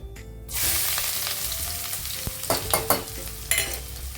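Chopped onion hits hot oil with cumin seeds in a pan while palak paneer is being made, setting off a loud burst of sizzling that settles into steady frying with several clattering stirs toward the end.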